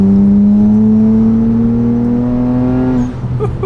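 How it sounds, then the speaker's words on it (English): A BMW 335i makes a fourth-gear pull on a dyno, the engine's drone climbing steadily in pitch for about three seconds and then cutting off abruptly, loud and close. "Let me do a small fourth gear pull."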